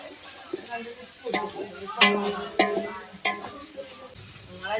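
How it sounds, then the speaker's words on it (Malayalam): Onions frying in very hot oil and being stirred in a pan, with a steady sizzle broken by several sharp scraping stirs close by, while faint voices murmur in the background. "ഫസ്റ്റത്തെ പരിപാടി നമ്മൾ ഉള്ളി നല്ലോണം വാട്ടലാണ്. എണ്ണ നല്ല ചൂടായിട്ടുണ്ട് കേട്ടോ."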